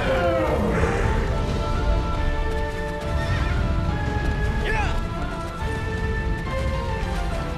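A horse-like colossus in Shadow of the Colossus neighs with a wavering whinny early on, followed by clip-clop hoofbeats and game sounds, while voices talk throughout.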